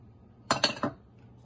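Strawberry puree being mixed with strawberry yogurt in a bowl, giving three quick clinks of a utensil in close succession, up close against a quiet background.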